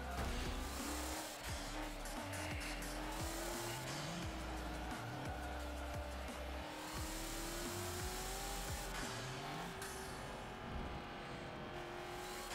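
A race car in the Forza Motorsport 7 racing game drifts with a sustained engine drone and wavering revs, while tires squeal and skid in long stretches throughout, loud and close, with no talking.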